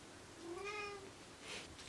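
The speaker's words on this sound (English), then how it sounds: "That's my cat, I don't know if you heard it." A single faint, drawn-out cat meow rising then falling, alone over quiet background hiss.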